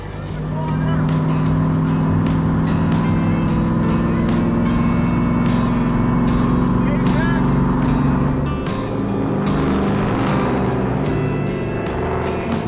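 A NASCAR stock car engine runs on a race track as a loud, steady roar with shifting tones that continues throughout, with voices talking underneath.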